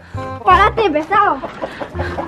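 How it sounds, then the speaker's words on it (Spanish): Hen clucking and squawking in a henhouse right after being caught, loud and close, with agitated harmonic calls bursting over about two seconds amid shouting voices. "¡Ha cogido la gallina!"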